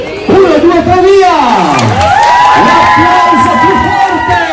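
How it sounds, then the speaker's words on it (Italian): Crowd at a back-to-school meet-up event cheering loudly, with sustained shouts, whoops and high excited voices rising and falling over a noisy hubbub and little distinct clapping. "L'applauso più forte!"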